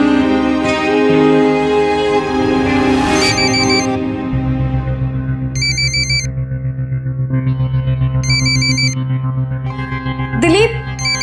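A telephone rings in a household scene, its bright repeated electronic ring tone in short bursts over a bed of dramatic background music and effects.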